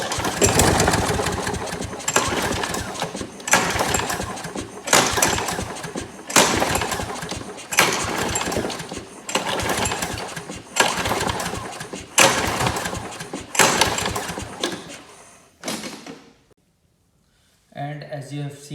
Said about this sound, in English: when I tried attempting to start the lawnmower